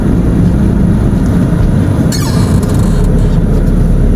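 Dump truck passing on a rough rural road, a loud broad rumble heard close over constant engine and wind noise from a moving motorbike, with a brief squeal midway.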